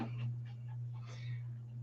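A dog pants and gives soft whimpers, quiet and close, over a steady low electrical hum, with faint voice-like murmurs now and then.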